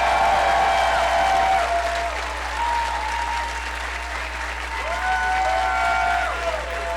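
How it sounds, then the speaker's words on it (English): Audience applause at RuPaul's DragCon 2015, a full, continuous burst of clapping from a large crowd with a few whoops and tonal cheers riding over it throughout. "Give him a big round of applause."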